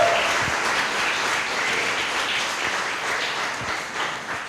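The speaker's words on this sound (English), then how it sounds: "I need to hear some clapping." Audience members at a candidate forum clap in a steady, moderately loud round of applause filling the room for several seconds, with no speech over it.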